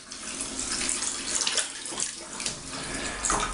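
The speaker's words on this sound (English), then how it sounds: "wet my face cloth or my flannel" A bathroom tap runs steadily into a basin as water is heated for wetting a face cloth before a shave, a soft continuous splashing stream heard on its own without talk.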